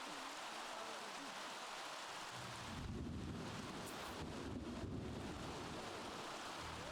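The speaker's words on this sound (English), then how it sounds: "And you know, it is thundering out." Thunder rolls during a rainstorm in The Sims 3 video game, a quiet hissing rain bed that swells about three seconds in into a deep, broad rumble lasting several seconds.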